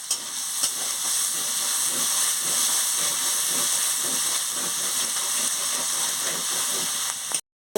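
Spices sizzle loudly in hot oil in a pan with green chilli and chopped tomato, a steady close hiss with light stirring scrapes, ending abruptly.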